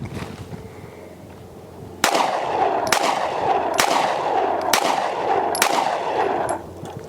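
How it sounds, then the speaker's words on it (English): Five loud, sharp pistol shots from a Sig P365XL Spectre Comp crack out at an outdoor range, spaced roughly a second apart, each with a brief echo over steady background noise. "5 rounds to the new P365 Spectre Comp"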